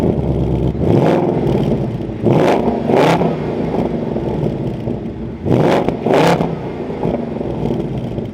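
A 2024 Ford Mustang GT Premium V8 revved repeatedly at idle, loud and close, with several sharp throttle blips rising over a steady rumbling idle, no voices present.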